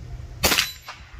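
A single sharp crack of a Rossi Rio Bravo .22 LR lever-action rifle fired at a plate target, followed a moment later by a fainter echo or impact tick.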